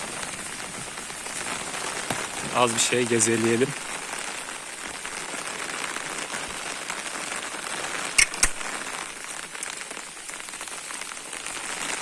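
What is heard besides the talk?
rain falling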